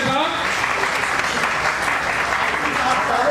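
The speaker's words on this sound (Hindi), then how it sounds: "जोरदार तालियों के साथ" A crowd claps loudly and steadily at an Ambedkar Jayanti community gathering to welcome a guest. The dense applause fills the whole moment, with faint voices mixed underneath.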